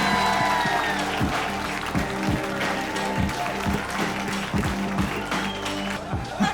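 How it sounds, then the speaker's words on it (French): An audience applauds steadily, dense continuous clapping for several seconds without pause. "On les applaudit."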